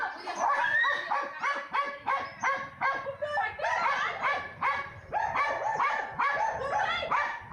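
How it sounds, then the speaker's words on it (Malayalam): A dog barks in rapid, repeated bursts at a cobra that slithered in from the yard, loud and near, with a few whimpering yips mixed among the barks. "പറമ്പിൽ നിന്നിഴഞ്ഞെത്തിയ മൂർഖനെ കണ്ട നായ കുരച്ചുകൊണ്ട് വീട്ടുകാരെ വിവരമറിയിക്കുകയായിരുന്നു."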